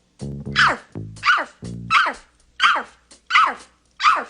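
A man imitates a big dog barking with his voice, six loud deep woofs in a steady rhythm, each followed by a short pause, close and alone.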